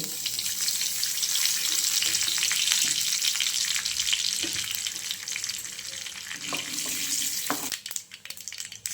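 Urad dal, mustard seeds and curry leaves fry in hot oil as a tempering for koral chutney, giving a loud continuous crackling sizzle up close with occasional stirring knocks and a brief drop near the end.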